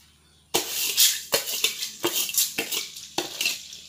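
Edible gum (gond) frying in ghee in a pan, stirred with a metal spoon: a series of sharp scraping clinks against the pan over a steady bright sizzle, close and fairly loud, with no talk.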